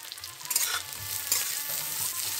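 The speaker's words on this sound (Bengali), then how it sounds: "এবার হালকাভাবে আমি ভেজে নিচ্ছি সবজি, আর একটু ভাজবো।" Mixed vegetables fry lightly in a pan for dal, giving a soft continuous sizzle with scraping stirs, close and fairly quiet.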